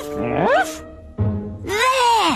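A cartoon robot character's voice imitates a dog barking, with drawn-out rising and falling yelps and a low woof in between, loud and close.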